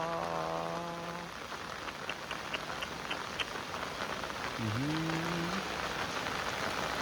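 Steady heavy rain hisses across the whole clip, with a few brief tonal chirps and a short rising whistle partway through.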